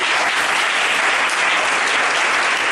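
A church congregation applauding to acclaim Jesus, steady loud clapping from a large crowd that holds evenly throughout without pause.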